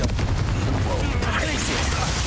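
Fire and blasting spell effects in the video game Hogwarts Legacy, a dense burst of booming, crackling impacts over a roaring low rumble, loud and continuous through the short span.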